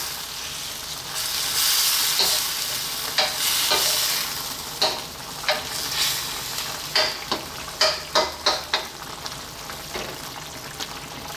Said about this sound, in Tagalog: So at this point, haluin ko na siya.